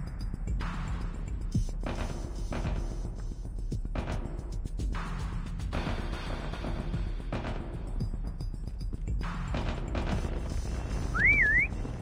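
A prop whistle in Call of Duty Mobile Prop Hunt, on the holiday Raid map, sounds as a brief rising-and-falling whistle near the end, after a steady stretch of game noise with bursts like gunfire.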